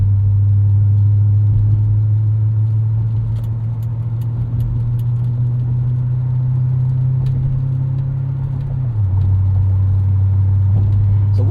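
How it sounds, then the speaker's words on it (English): Steady low exhaust drone from the 2003 Mercury Marauder's V8 with its aftermarket exhaust, heard from inside the cabin while commuting. The drone holds constant, dips slightly in pitch near the end, and carries a faint jingle of keys. "A little bit of drone from this exhaust."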